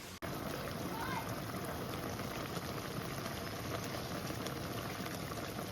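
Chicken simmers in an uncovered pot, a steady bubbling and hissing boil that holds evenly throughout after a brief click at the start.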